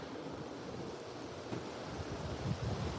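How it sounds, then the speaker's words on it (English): Wind blowing steadily along a shore during a northeastern October storm in New Jersey, a continuous broadband roar with gusts swelling louder near the end and buffeting the microphone, with no talking. "It is a little windy."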